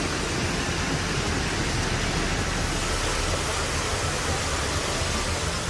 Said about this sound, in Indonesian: Hujan deras yang terus mengguyur kawasan ini